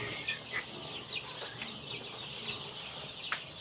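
Darag native chickens, a young batch about a month old, cluck and peep softly in scattered short calls over a steady background hiss, no talking.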